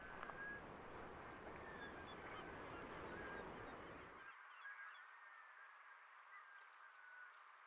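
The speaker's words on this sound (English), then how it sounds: "all the black scoters, and you can hear them whistling." Black scoters whistling off the winter coast of southern Maine, a flock of high thin whistles drifting at a distance over steady surf and wind that drops away partway through.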